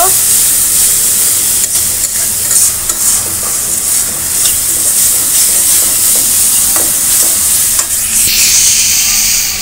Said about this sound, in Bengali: এটা সুন্দর করে একটু ভুনে নেব